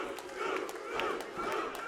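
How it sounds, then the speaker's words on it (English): A pro wrestling crowd cheers and yells at a cage match title bout, a loud mass of voices surging in waves with sharp shouts on top. "The crowd has come unglued."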